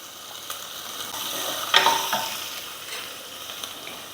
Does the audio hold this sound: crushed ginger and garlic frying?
yes